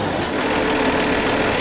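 A bulldozer engine runs steadily while warming up, a loud, constant diesel rumble and hiss with no break and no voices.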